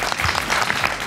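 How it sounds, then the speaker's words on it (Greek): A studio audience at a live dance show claps loudly and steadily for a dancing couple, the dense applause filling the whole short moment. "Ένα πολύ δυνατό χειροκρότημα για τον Αλέξανδρο και την Μυρτώ"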